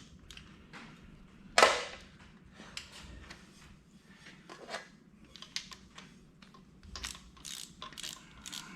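Socket wrench ratcheting a bolt out of the fuel pump on a 1986 Ford F250 with a 351 Windsor, heard as a loud burst of clicking followed by scattered quieter ratchet clicks and metallic handling, with no talking.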